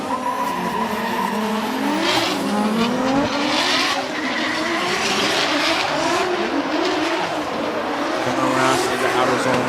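Drift cars, a BMW M2 F22 and a Toyota JZX100 Mark II, battle at Okuibuki Motorpark in Shiga, engines screaming and tires squealing continuously in a long loud skid, with a commentator talking over the noise.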